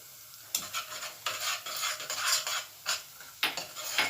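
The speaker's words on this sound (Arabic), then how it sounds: "هقلبهم كده، هنزل بالبهارات بتاعتنا" Whole spices such as cardamom and coriander toast in a pan while a spoon stirs them, giving repeated close scraping strokes over a soft, steady sizzle, with no talk.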